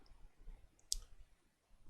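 A single sharp computer mouse click during a Photoshop design session, with a drag, heard once, close and crisp against a quiet room.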